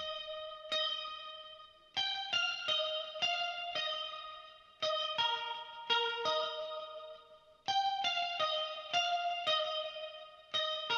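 A bright synth plays a bouncy counter melody in short phrases, shimmering with chorus and trailing echoes and reverb between notes.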